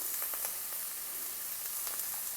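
Onions sauté with a pinch of salt, giving a continuous, even sizzle with faint crackles and no talking.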